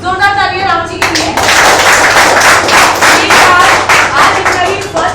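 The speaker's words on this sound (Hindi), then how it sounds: "एक जोरदार ताली राम जी के लिए।" Audience applause greets a speaker being called up at a seminar, a dense burst of clapping starting about a second in and continuing loud and steady, with a voice briefly heard at the very start.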